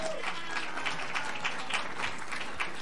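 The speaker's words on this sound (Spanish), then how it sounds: "Démosle un aplauso" Quiet applause from an audience welcoming a speaker at a talk on gut microbiota, a soft, steady patter of clapping heard from a distance.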